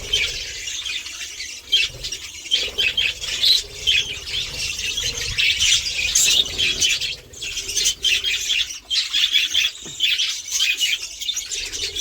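Small birds in morning sunlight chirp, tweet and squawk busily and without pause, with occasional wing flutters, fairly close and steady throughout with no talking.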